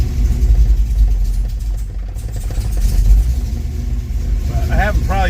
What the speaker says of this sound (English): Get it to idle and I can go out. We can listen to the exhaust in the back